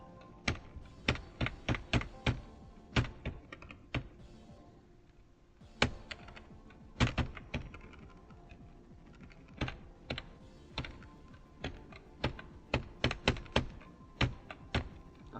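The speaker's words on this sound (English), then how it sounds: "I do just bash my keyboard when I'm playing" Someone bashes a computer keyboard while playing Geometry Dash, rapid irregular runs of loud close key presses and thunks repeating throughout, with brief lulls between flurries and no speech.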